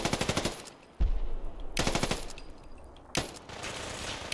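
Rapid bursts of gunfire in the video game Fallout 4, with a quick automatic volley at the start and sharp loud shots around one, two and three seconds, each trailing into echoing decay.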